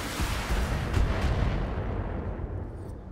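Mech weapons in the BattleTech video game fire on an Orion, producing a heavy burst of booming, rumbling impacts that swell and then slowly fade into a softer low roar.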